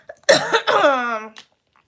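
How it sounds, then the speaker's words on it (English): Lingering cough during a respiratory infection, a single harsh near cough followed by a rough throat-clearing rasp, close and loud, then silence. "I still have a bit of a cough"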